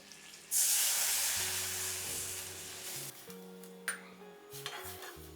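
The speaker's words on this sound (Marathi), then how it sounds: "आता ही आपली फोडणी तयार झाली आहे" A tempering of spices sizzles loudly in a pan, bursting into a strong hiss that slowly fades over several seconds, with a few light utensil scrapes and soft background music.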